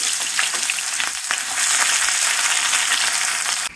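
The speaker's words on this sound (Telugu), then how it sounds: "ఆనియన్స్ అన్నీ వేసేసుకున్నాము. సో ఇది బాగా ఫ్రై అవ్వాలి మనకి." Green chillies and onions fry in hot oil in a pan, giving a loud, steady sizzling hiss with faint stirring, close up and without talk.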